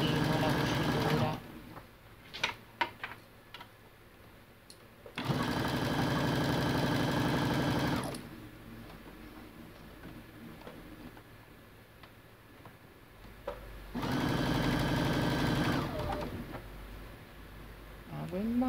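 A sewing machine runs in three sustained bursts as it stitches fabric for a bandana bag, loud and close, with handling noises and a voice talking in the pauses.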